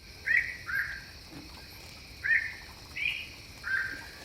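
Strange birds chirp at night in a film: five short, bright calls come in two pairs and a single, moderately near, over a steady high insect drone.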